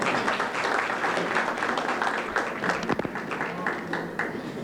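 A lunch audience applauds for a city mayor, a fairly loud, dense spread of clapping that rises and ebbs across several seconds with a little voice mixed in.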